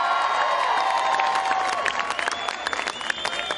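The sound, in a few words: crowd cheering and applauding at a Christian protest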